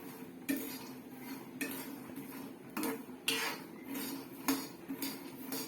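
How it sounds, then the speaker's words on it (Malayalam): Roasted peanuts are ladled out with metal utensils, producing a series of sharp clinks and scrapes against a pan at irregular intervals. The sounds are fairly close and quiet, with no talking. "ഞങ്ങളുടെ ഒരു നാലുമണി പലഹാരം കപ്പലണ്ടി വാർത്തെടുക്കുന്നു"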